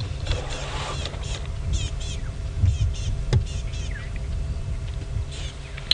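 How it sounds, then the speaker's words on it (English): Small birds give sharp, repeated alarm calls in the African bush during a sunset safari drive, faint chirps and chatters scattered over a constant low vehicle engine rumble. "Sorry, there's birds alarm calling. Do you guys hear them?"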